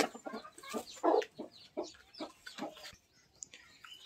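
Desi hens clucking in short, irregular bursts close by on a poultry farm, with a few sharper squawks scattered through the stretch.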